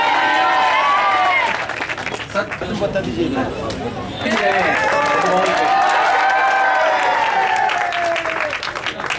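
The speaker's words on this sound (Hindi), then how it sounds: "तालियों के साथ स्वागत।" A crowd applauds steadily at a football tournament prize ceremony as guests are welcomed, with loud sustained clapping and cheering throughout, a brief dip midway, and someone speaking over it.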